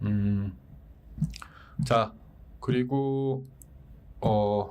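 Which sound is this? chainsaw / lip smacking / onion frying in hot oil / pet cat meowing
lip smacking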